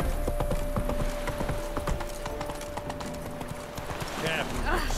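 The horse Roach trots in The Witcher 3, hooves clip-clopping in a quick, even rhythm close by, with game sounds and a voice speaking over the steps.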